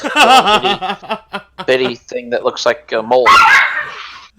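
A pet dog barks a few sharp, excited times near the end, loud and close, right after stretches of talking and laughter by people in the room.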